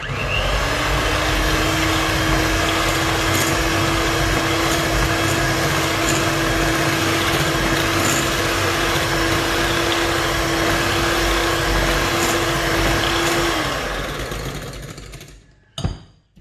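An electric mixer drones loudly and steadily while beating red velvet cake batter with vanilla, holding one pitch for about fourteen seconds before winding down, followed by a brief clatter.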